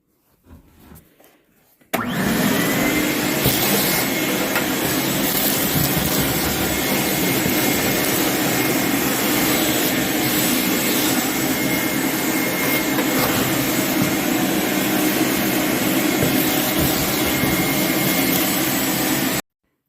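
A vacuum cleaner sucks up debris while cutting away the water-damaged underbelly of an RV, starting after a short quiet lead-in and then running loud, steady and close for the rest of the clip with no talk.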